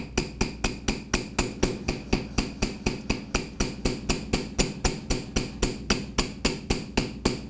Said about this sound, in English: hit this a couple times with the flat end of my chasing hammer. Working on a bench block.